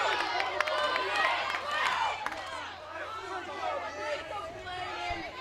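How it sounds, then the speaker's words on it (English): Restless crowd at a softball championship game, a broad steady murmur of many voices with scattered shouts and calls, sustained and fairly close throughout. "The crowd's starting to get a little antsy"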